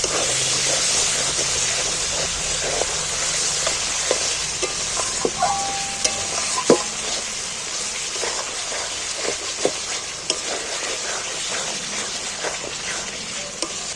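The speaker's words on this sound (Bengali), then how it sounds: "এই টক দইটা আমি এই পেঁয়াজের মধ্যে দিয়ে দিচ্ছি এবার একটু আমি ভালো করে কষিয়ে নিই" Onions with sour yogurt stir-fried in a pan for a chicken curry, a steady hissing sizzle with scattered spatula scrapes and taps throughout, close up and without speech.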